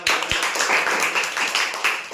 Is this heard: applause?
yes